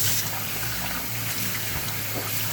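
Rice being washed under a running kitchen tap, a loud, steady gush of water splashing continuously throughout at close range with no voice.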